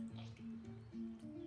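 Water poured from a jug over softened clay, a soft continuous trickle with small drips and squishy splashes, close and fairly quiet.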